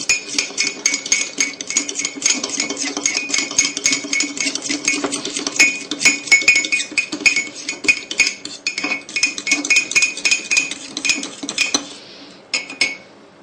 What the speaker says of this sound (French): Après, pour mélanger, vous mieux prendre une fourchette afin que le mélange soit meilleur. Là, on mélange.